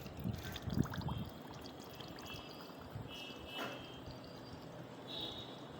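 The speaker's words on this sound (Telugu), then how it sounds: "దీంట్లో వాటర్ కూడా కొంచెం పోసుకోవాలండి." A little water is poured into a bamboo tube filled with chicken for bamboo chicken, giving a soft, close splash and trickle early on, then faint liquid sounds over quiet outdoor background.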